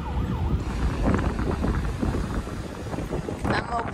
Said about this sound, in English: Ambulance responding with high-low siren.